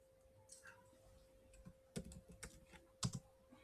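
Faint, quiet keystrokes tap on a computer keyboard in short irregular bursts, with a couple of sharper clicks and a steady low hum in the background.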